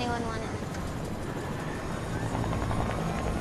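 A Fortnite helicopter's rotor thrums in a loud, continuous drone close by, steady throughout with no breaks.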